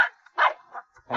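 Fierce small Chinese rural dog, a black native breed, letting out three sharp, close barks in quick succession, with brief quiet gaps between them.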